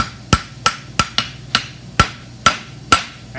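A hammer forging hot metal rings sharply, about nine close, loud blows in a fairly steady rhythm, each with a bright metallic clang.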